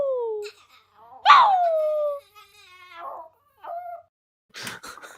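A person howls in a high, sliding voice imitating a dog, two long howls followed by shorter yelps and vocal bursts, close up with quiet gaps between.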